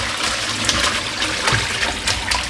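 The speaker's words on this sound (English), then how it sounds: "Just going to drain it." Cooled water from cooked broccoli and cauliflower is poured off through a drain, a steady close splashing trickle with small gushes throughout, no talking.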